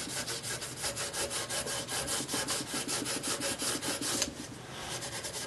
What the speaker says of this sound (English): take my steel wool and just remove some loose rust from this area